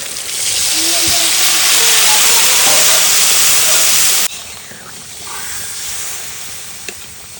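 Water poured into a hot cooking pan in a home kitchen sets off a loud, close burst of hissing steam for about four seconds, which drops abruptly to a softer, ongoing sizzle.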